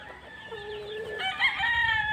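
A gamecock fighting rooster crows on a farm near a goat pen, one drawn-out strained call rising partway through and holding steady, clear and fairly close with no talking.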